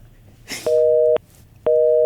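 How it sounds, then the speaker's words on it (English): A steady two-tone telephone signal starts after a brief rustle, cuts off for half a second, then resumes, loud and close. "we have a dial tone"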